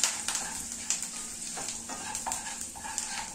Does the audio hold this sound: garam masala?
yes